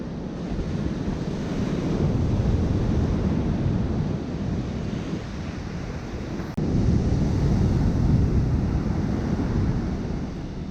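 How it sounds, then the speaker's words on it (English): Rough, wild sea surf rolls steadily at Anse de Flamands, St. Barts, a continuous broad roar of waves mixed with heavy wind buffeting the microphone, with no voices. "Rather wild sea."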